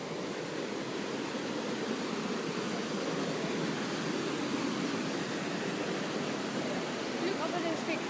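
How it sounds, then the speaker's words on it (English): Near the Ouzoud waterfall, falling water makes a broad, constant rushing roar, close and loud, while a voice seems to murmur faintly underneath. "We're just walking close to the waterfall."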